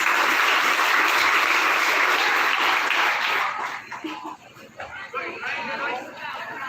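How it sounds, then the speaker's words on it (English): Applause from a graduation ceremony crowd at a national high school fills the first few seconds loudly, then fades into scattered claps and murmuring chatter. "Let's give him a round of applause."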